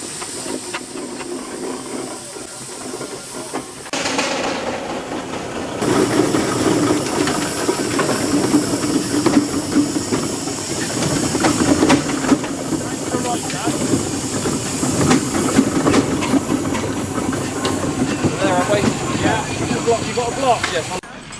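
A steam engine at an outdoor rally in Rempstone hisses continuously, a loud broad rush that swells after a few seconds and holds steady, with voices and other show activity mixed underneath.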